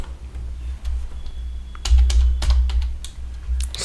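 Computer keyboard keys being typed while entering Python code, a steady run of quick close clicks with a denser burst of keystrokes midway.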